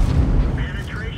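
A T-28 tank fires its cannon in World of Tanks, heard as a heavy, low, rumbling boom that fills the short moment, with a voice faintly present.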